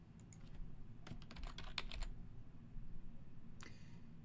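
Computer keyboard keys tapped in short irregular bursts while a board title is entered in Trello, close and fairly quiet with brief pauses between clusters of keystrokes.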